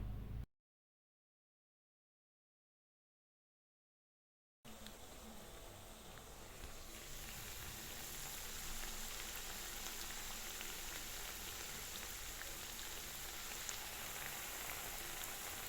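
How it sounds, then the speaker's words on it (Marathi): Steady crackling and sizzling of edible plant gum frying in hot ghee, a dense hiss that runs on after a brief silence near the start. "या तुपामध्ये मी डिंक तळून घेणार आहे"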